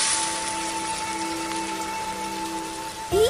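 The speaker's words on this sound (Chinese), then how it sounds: "外面正下雨" Steady rain patters on surfaces outside in an animated period drama, a soft continuous hiss of falling drops, ending with a faint tonal sound.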